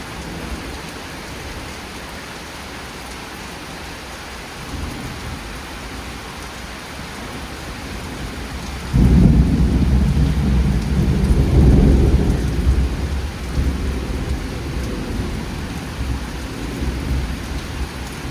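Thunderstorm over a lake: steady heavy rain hisses throughout, then a loud, close thunder crash breaks in midway and rolls on in a long rumble under the continuing downpour.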